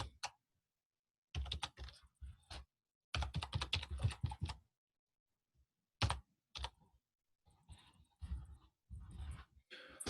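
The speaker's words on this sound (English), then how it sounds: "I can just type it into the chat box" Typing on a computer keyboard into a chat box: close bursts of quick key clicks separated by silent pauses, with no voices.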